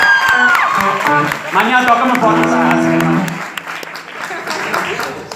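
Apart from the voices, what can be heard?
audience cheering and applauding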